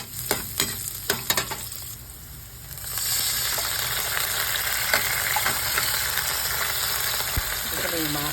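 Garlic and onion sizzling in a pan, stirred with a few sharp utensil knocks, then canned mackerel with its broth added, bringing a louder, steady frying hiss, close up.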